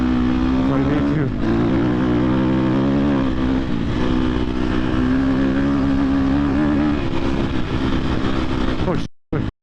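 A KTM 250 XC-F dirt bike ridden on desert trails, its engine droning loud and close throughout with rising and falling revs, plus wind buffeting, cutting out abruptly near the end.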